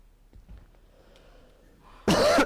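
A single sharp cough bursts out loudly near the end of a quiet stretch inside a church during a worship service, after faint shuffling room noise.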